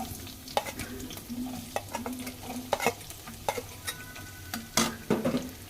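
Onions fry in a pan for jute leaf bhaji with a continuous close sizzle, punctuated by repeated sharp scrapes and clicks of a spatula stirring at an uneven rhythm.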